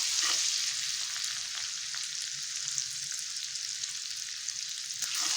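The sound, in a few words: chopped ginger frying in oil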